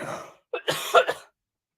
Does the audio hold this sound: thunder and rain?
no